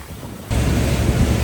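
Ocean waves break over a reef pass off Mauritius during a boat excursion, a steady broad wash of surf that jumps suddenly louder halfway through, with wind buffeting the microphone and no voices.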